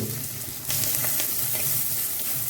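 Oil in a clay pot on a stove sizzles loudly as tempering spices, curry leaves and onions fry, a dense continuous crackle that swells suddenly about a second in and then holds steady, close up with no voices.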